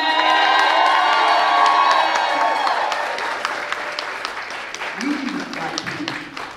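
A press-conference crowd cheers and applauds for Chadwick Boseman, with whoops and shouts over dense clapping, loud at first and easing after a few seconds while voices carry through.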